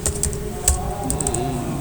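Fingers type briefly on a computer keyboard, a short run of close, crisp key clicks over a steady hum, with no speech.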